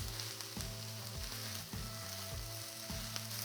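Hot sausage pieces sizzle in a skillet, a steady close crackling fry with a few brief scraping stirs breaking through at regular intervals, fairly quiet overall.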